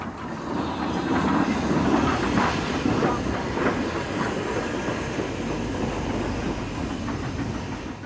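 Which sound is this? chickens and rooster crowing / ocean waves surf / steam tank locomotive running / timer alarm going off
steam tank locomotive running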